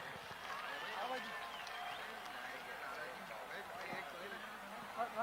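A live audience at an event claps continuously, a dense, steady wash of applause from many hands heard at moderate distance throughout.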